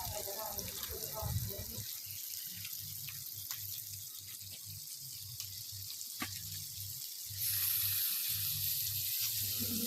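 Washed goat meat dropped into fried spice masala, a close hissing sizzle with scattered crackles and stirring scrapes, growing louder and brighter toward the end; no talk.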